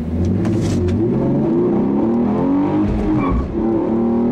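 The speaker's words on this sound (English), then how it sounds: "when you really get hard on the throttle, you can feel it cut power, and it gets really jerky" A 2015 Hyundai Genesis Coupe 3.8 engine revs hard under full throttle, its pitch climbing and faltering unevenly as stability control cuts power, loud and close with a brief tire squeal.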